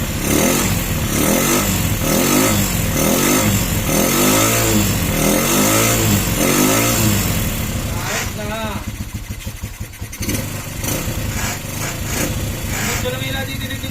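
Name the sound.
restored Motorstar classic motorcycle engine revving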